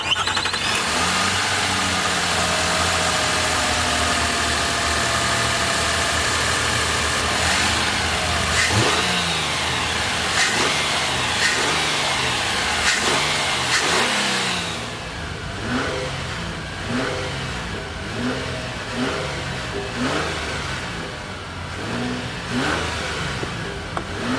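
A 2022 Nissan Pathfinder SUV's 3.5-liter V6 engine idles with a steady rumble, then revs up and down repeatedly in short bursts, close and loud, with no speech.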